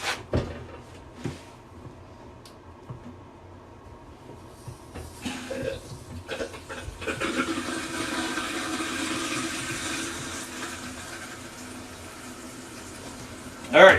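A rebuilt toilet tank refilling with water, a steady rushing hiss that builds after a few clicks and handling noises and carries on to the end.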